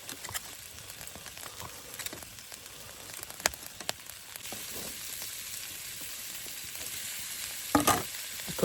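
Steak sizzles and spits steadily in a pan over an outdoor campfire, with an even crackling texture and a few louder pops toward the end, with no voices.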